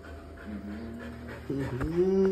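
A dog pants eagerly up close, breaking into high, thin whimpers toward the end.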